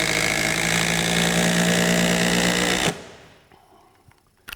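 Milwaukee cordless impact driver running on half a battery, a loud steady buzzing drone close up that cuts off abruptly, followed by faint clicks and handling noises.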